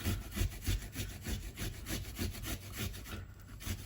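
An ingredient for a spicy vegan chickpea curry is grated by hand, giving steady rhythmic rasping strokes, about two or three per second, close and fairly loud with no talking.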